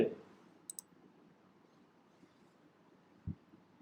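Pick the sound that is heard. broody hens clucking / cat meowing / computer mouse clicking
computer mouse clicking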